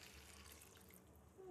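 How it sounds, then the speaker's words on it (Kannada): Water pours into a pan of prawn fry, a short, faint splashing trickle heard close and alone. "ಸ್ವಲ್ಪ ನೀರು ಹಾಕೋಣ."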